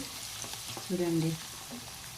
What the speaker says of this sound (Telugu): చూడండి ఎంత బాగా ఫ్రై అవుతున్నాయో